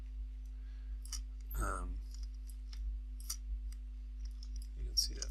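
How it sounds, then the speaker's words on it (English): Computer mouse double-clicked during 3D modeling work on boot shapes, small sharp clicks close by in a quiet room, with a brief stretch of speech in the middle. "I'm just going to double click on this"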